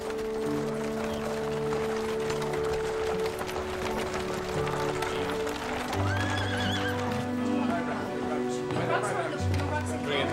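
Horse-drawn carriages roll along with steady clip-clopping hooves and horses neighing and whinnying, while people talk over the scene.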